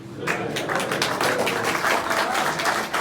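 An audience clapping steadily in a hall during a comedy and poetry show, a sustained wash of many hands applauding at moderate loudness, with a voice faintly underneath.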